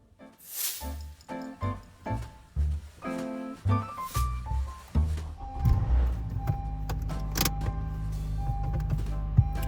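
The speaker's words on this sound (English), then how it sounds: "So right now, we're gonna go start the car" A 2013–2017 Honda Accord starts partway through: several short whirring mechanical sounds come first, then the engine catches and settles into a steady, low, close-up idle hum.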